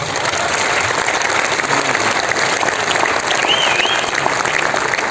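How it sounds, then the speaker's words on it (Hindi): Sustained applause from a seminar audience at an RCM business academy event in Bhilwara, a loud, dense wash of many hands clapping steadily and filling the whole stretch without pause. "इसके लिए भी सरकार को और अपने डिसीजन को तालियां बजा के आप स्वागत कर सकते हैं।"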